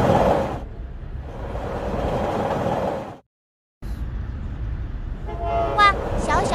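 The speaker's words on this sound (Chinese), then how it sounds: "你看火车太快了，一眨眼就不见了" A cartoon train rushes past with a steady roaring rumble that briefly drops out, then returns and ends in a bright toot of its horn.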